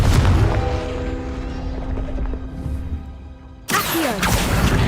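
A Confringo explosion spell cast in Hogwarts Legacy: a rumbling, booming blast that tapers off, then a second sharp, loud burst cracks in near the end.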